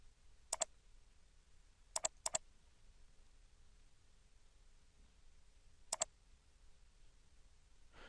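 A computer mouse clicks faintly in a quiet room while website menu colors are edited, a few sharp isolated clicks, including one quick double click.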